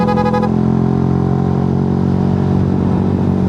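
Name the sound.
motorcycle engine while riding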